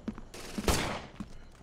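A single gunshot in a chaotic game-style firefight, one sharp broadband blast near the middle of the clip, surrounded by smaller pops and clatter before and after.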